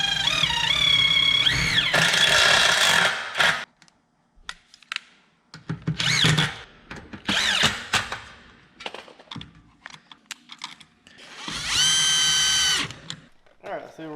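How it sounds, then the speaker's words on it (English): A power drill drives a self-tapping screw into the metal of a boat trailer, whirring in loud bursts, starting and stopping several times with high whining tones, separated by short quiet pauses and brief knocks. "now I'm going to drill in a metal self-tapping screw"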